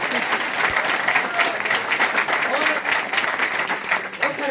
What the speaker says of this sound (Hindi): तो एक बार भाई सारे मिलके मेरे लिए तालियां बजा दो